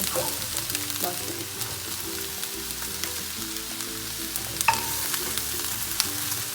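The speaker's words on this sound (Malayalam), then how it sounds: "എല്ലാ കൊഴുക്കട്ടേൻ്റെ മുകളിൽ ഈ അരപ്പ് വരുന്ന രീതിയിൽ നന്നായി ഇളക്കി വെച്ചെടുക്കുക" Kozhukatta dumplings being stirred into a coconut paste in a pan, a steady soft sizzling and scraping texture that continues without pause, close and moderately loud, with no voices.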